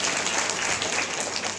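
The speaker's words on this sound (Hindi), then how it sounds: "वाह ताली बजाए बहुत अच्छी बात" An audience at a spiritual talk claps steadily and densely throughout, a brief burst of close applause with no clear voices over it.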